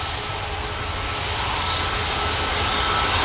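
Airliner engines at Manchester Airport, a steady loud broadband roar with a low rumble underneath, building slightly and holding without a break.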